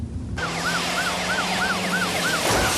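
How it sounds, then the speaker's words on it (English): Ambulance siren wailing in a steady, repeating rising-and-falling pattern over road noise as the vehicle nears an intersection, loud and continuous throughout. "I heard a siren on St. Joe Street approaching the intersection."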